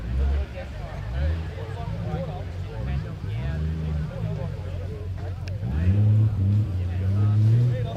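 An off-road car pushes through deep water while submerged at an off-road event, its engine rumbling and surging under the water's sloshing as people talk close by throughout.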